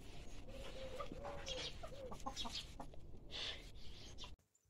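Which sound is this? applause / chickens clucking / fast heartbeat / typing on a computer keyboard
chickens clucking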